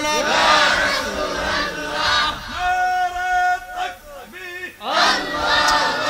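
Large crowd at an Islamic religious gathering roaring the takbir chant in loud, swelling unison bursts, with a lead voice calling between the massed shouts.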